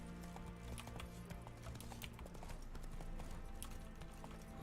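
Hooves of Roach, Geralt's horse in The Witcher 3, clip-clopping in a steady rapid rhythm close by, with dense overlapping hoof strikes and no speech.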